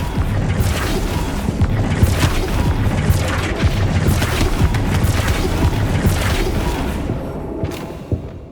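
A Flipendo spell goes off in Hogwarts Legacy, heard as loud, dense booming and thudding impacts inside a constant roar of combat effects that runs through the whole stretch, with no pause.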